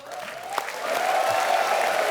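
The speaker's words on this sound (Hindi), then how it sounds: "जोरदार तालियां" A studio audience at a television comedy show applauds, the clapping swelling from scattered hands into a loud, sustained, dense wash with a few cheers.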